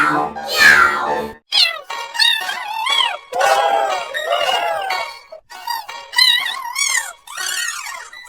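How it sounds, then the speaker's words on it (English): Cat meows from an animal sound-effects collection, a rapid series of pitched, wavering calls, close and loud, with brief gaps between them. "Cats go meow, meow, meow."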